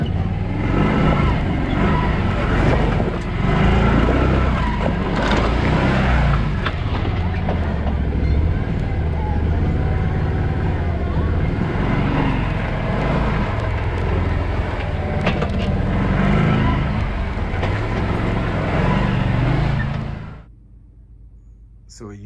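Can-Am Defender utility vehicle rumbling steadily over a rocky rock-crawling trail, a loud continuous engine and rattling drone that cuts off near the end.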